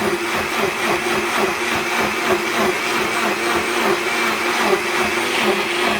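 A Walmart Mainstays 6-speed blender runs steadily, a loud, continuous motor whir with churning blade noise that holds constant throughout, close up and without talk.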